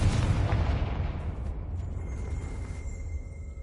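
Confringo spell blast in the video game Hogwarts Legacy, a loud booming burst at the start that rolls off into a fading rumble with a faint lingering tonal ring, no voices.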